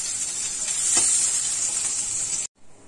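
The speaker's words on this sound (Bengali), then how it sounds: "দেখুন আমার মাছটা ভাজা হয়ে গেছে।" Fish fries in a pan with just a teaspoon of oil, giving a steady close sizzle with bright hiss that runs evenly for over two seconds, then cuts off abruptly to near silence.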